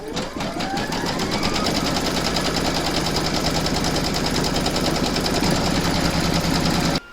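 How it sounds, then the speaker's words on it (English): An embroidery machine stitches a Christmas coaster design in the hoop, running a loud, fast, steady mechanical chatter that holds at an even pace and stops abruptly at the end. "Pop your hoop into your machine and stitch round number 3 to secure it."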